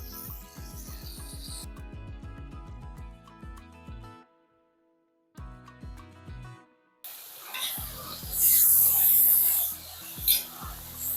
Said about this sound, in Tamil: இதையும் இந்த எண்ணெயிலே ஊற்றி நல்லா வதக்கிடலாம்